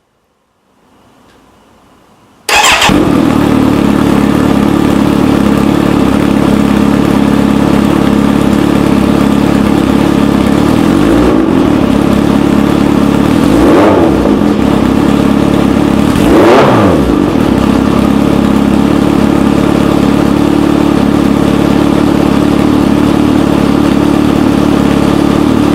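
A Kawasaki Z900RS idles loudly and close by through an SC Project exhaust can. After a quiet start it settles into a steady rumble, with three short throttle blips rising and falling partway through.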